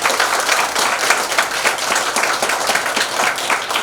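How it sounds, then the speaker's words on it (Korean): Audience applause for lecturer Park Ju-min at a political lecture event in Jungnang: a dense, steady wash of many hands clapping, fairly loud and close, with no voices over it. "오늘 귀한 시간 끝까지 해주시고 좋은 강의해 주신 우리 박주민 위원님께 큰 박수 한번 부탁드립니다"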